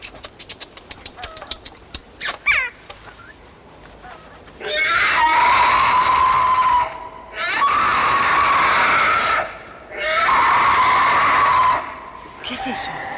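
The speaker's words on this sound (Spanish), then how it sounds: "¿Y una niña puede gritar así?" A young girl screams in long, piercing, sustained bursts, three loud cries separated by brief pauses, following softer sounds and voices at the start.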